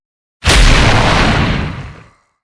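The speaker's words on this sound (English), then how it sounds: "Another loud explosion was heard in the military base camp." A single loud explosion at a military base camp erupts abruptly from silence with a heavy low boom and broad crackling blast, then rumbles and decays over about a second and a half before cutting out.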